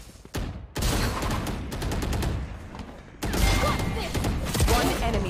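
Bursts of rapid automatic gunfire in the video game Valorant, several loud volleys separated by short pauses, with a brief voice heard faintly.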